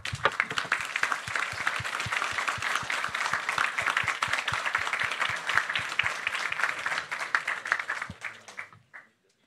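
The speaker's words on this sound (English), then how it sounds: "and let's have a round of applause for our panelists." A conference audience applauds its panelists after a discussion at the Defence24 Days event: a dense, steady wash of many hands clapping for about eight seconds, then fading quickly into silence.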